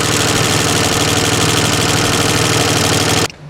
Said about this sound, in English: as you saw, the AC compressor was actually working